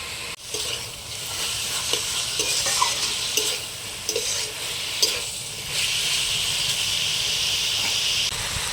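Fried eggplant stirred into a sizzling pan of rattan-shoot greens, a continuous loud hiss of frying with scraping stirs and occasional spatula knocks, no voices.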